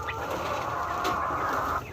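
A backyard chicken clucking in a short, close burst of murmuring calls over a windy background, ending with a sharper note.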